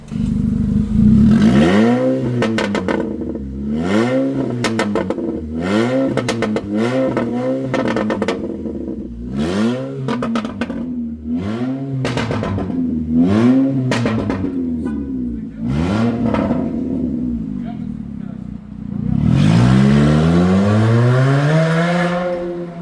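A Chevrolet Gentra 1.5 engine revs repeatedly through a loud, throaty sport exhaust, rising and falling in quick bursts, ending with a longer sustained rev.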